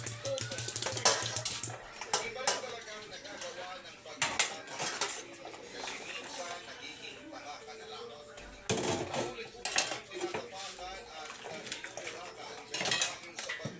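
Dishes, including a ladle, are washed by hand, with close clinks and clatters of plates and cutlery and splashing water in irregular bursts, and a voice speaks at times.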